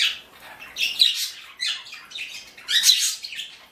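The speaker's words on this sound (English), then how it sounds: "This is Stormy, my Pied Pearl Cockatiel." A male pied pearl cockatiel gives a few close, shrill squawking calls in short bursts, loud and alone with no talking.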